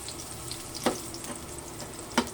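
Garlic sautéing in hot oil for chicken wings in sweet sauce, a soft steady sizzle with a couple of brief sharper pops or stirs, no talk.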